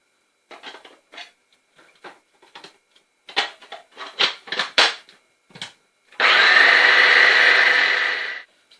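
Sesame seeds and oil go into a blender for homemade hummus: a string of short choppy pulses and bumps, then a loud sustained grinding whir for about two seconds before it cuts off.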